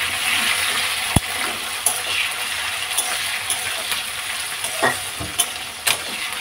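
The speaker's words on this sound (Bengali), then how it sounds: "এবার টমেটো আর কাঁচা লঙ্কাটা দেবো।" Tomato and green chilli fry in hot oil in a pan, a steady sizzle broken by sharp clinks and scrapes from a spoon stirring against the metal.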